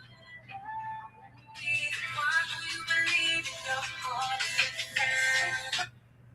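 Melodic phone ringtone from an incoming call, starting soft and swelling into a loud repeating tune that plays for several seconds before cutting off, over a steady low hum.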